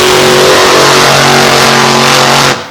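A monster truck engine roars at high revs with a steady transmission whine riding over it, echoing at night at the Western Carolina State Fairgrounds, then cuts off abruptly at the end.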